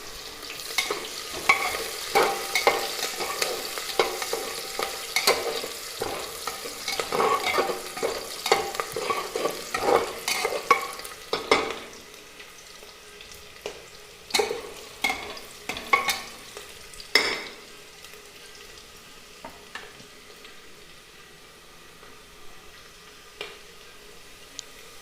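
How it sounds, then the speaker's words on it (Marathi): Onion fries in oil while a spoon stirs it, village style, for chicken. A dense sizzle carries repeated scraping and clicking strokes that thin out in the second half. "छानपैकी कांदा भाजून घ्यायचा आहे आपल्याला."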